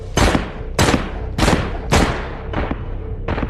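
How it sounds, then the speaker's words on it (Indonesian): Gunfire from a movie scene, six loud sharp shots spaced roughly half a second apart, each a broad booming crack with a short ringing tail, the last two somewhat softer. "Ryan memberikan sepucuk pistol kepada satu orang gadis dan berhasil menembak Asep"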